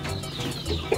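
A giant criollo rooster on a small farm gives a short, soft cluck over quiet background noise, with a slightly louder note at the end.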